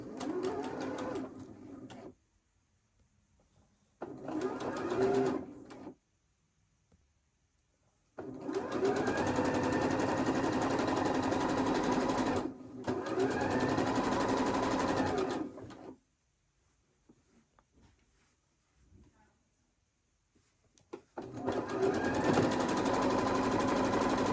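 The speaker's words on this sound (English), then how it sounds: "I'm going to feed it through. Sewing a 1/4 inch away." Sewing machine feeding quilting fabric for a quarter-inch seam, running in four bursts of steady whirring, with short quiet gaps between them and no voices.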